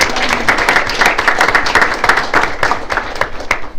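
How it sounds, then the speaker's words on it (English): At a school board meeting, attendees applaud certified staff nominees with lively, fairly loud clapping from a modest group, individual claps audible in an uneven patter across several seconds. "Let's give a round of applause for all of our certified nominees."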